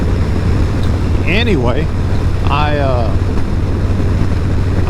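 Modded Harley-Davidson Low Rider S motorcycle on the road, a steady loud engine drone mixed with heavy wind rush on the microphone, with someone talking over it.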